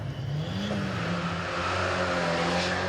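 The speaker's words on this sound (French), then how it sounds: "comment ça se pilote une 205 Turbo 16? Ça y est, on est déjà en glisse." Peugeot 205 Turbo 16 rally car sliding sideways through a corner, its engine a steady, loud, close drone that climbs slightly in pitch throughout, with no talking.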